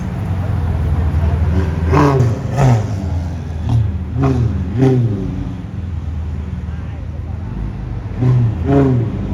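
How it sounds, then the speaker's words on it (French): A Ferrari F8 sports car drives past on a European road, its engine revving and swelling over steady traffic noise while people talk over it throughout. "Ferrari F8."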